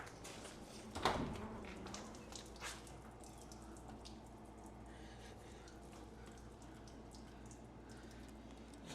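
Coolant leaks from an abandoned Mazda Miata, a faint, irregular dripping and splattering under a low background hum, with one louder splash early on.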